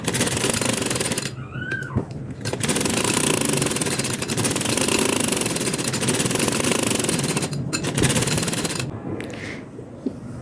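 A sewing machine runs steadily, stitching a half-inch seam along trouser fabric in a continuous loud mechanical whir, with a few short pauses between runs.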